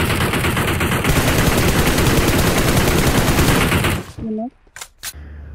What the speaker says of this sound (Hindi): अब आप देख ही सकते हैं कि आगे से भी फायरिंग चल रही है